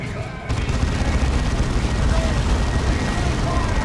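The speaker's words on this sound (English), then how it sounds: "These guys are wasting their time trying to shoot the Land Raider with the Assault Cannons." Assault cannons in Dawn of War 2 fire at a Land Raider in a dense, continuous rattle of rapid shots and blasts that starts abruptly and holds steady and loud, mixed with battle noise.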